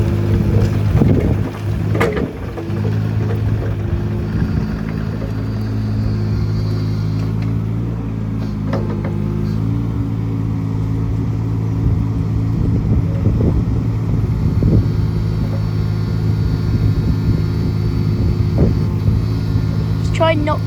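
Hitachi digger engine running steadily at a constant low idle throughout, a strong continuous drone with a brief knock near the start, while a person talks over it.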